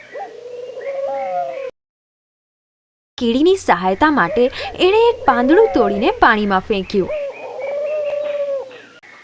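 A pigeon coos in repeated soft, throaty calls, with a person narrating calmly before and after.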